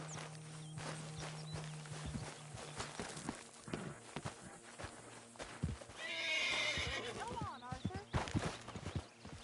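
Horse in the Red Dead Redemption 2 video game whinnying loudly and snorting amid close, clopping hooves and footsteps, with a voice talking over parts of it.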